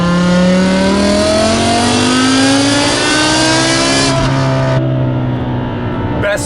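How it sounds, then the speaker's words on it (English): 2008 BMW E60 M5 with a V10 engine and an open, unrestricted exhaust revving loud and close, pitch climbing steadily through a long pull before easing off near the end. "with the exhaust the way that it is, open, unrestricted from the engine to the back, it's just glorious."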